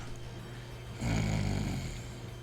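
A person imitates snoring into a microphone during a gaming team-wars broadcast: quiet room tone, then a single drawn-out, rasping snore lasting under a second, close to the mic.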